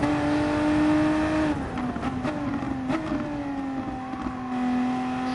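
A Volkswagen Supersport car engine at full throttle on the Nürburgring GP circuit, a loud, steady high-revving drone heard from close by, with its pitch dipping briefly midway and then holding strong to the end.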